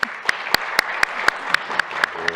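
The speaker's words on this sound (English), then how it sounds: "I'm going to ask you to give a round of applause." A small audience at a company annual meeting gives a round of applause for an employee, about ten evenly spaced, sharp claps standing out above a softer background of clapping.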